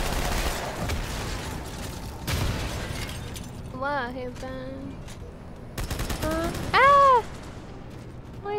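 Video game gunfire aimed at the player comes in dense bursts of rapid shots at the start and again later. Synthetic whooping and wobbling game effects sound in the middle, and a voice talks over parts of it.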